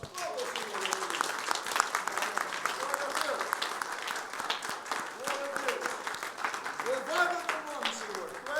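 A church congregation applauds continuously during a worship service, with sustained clapping that swells and fades while voices speak and call out over it.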